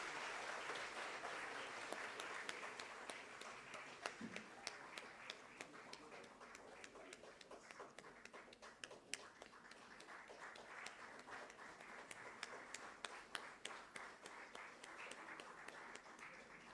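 A hall audience at a college silver jubilee alumni meet keeps applauding a department chairperson, a steady wash of many hands clapping at even strength throughout, with a few louder individual claps standing out.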